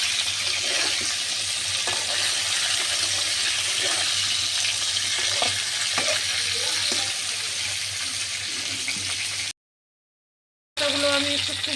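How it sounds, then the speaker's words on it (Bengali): Drumsticks (sajne data) and potato pieces fry in a pan with a steady, moderately loud sizzle and hiss, scattered small crackles and spatters, broken by a brief gap near the end. "আলুর সাথে আমি ভেজে নেব এই সজনে ডাঁটা।"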